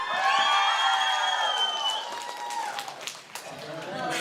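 Audience at a Kazakh wedding show breaking into applause and cheering, with a loud voice over a PA calling out to the crowd on top of the clapping.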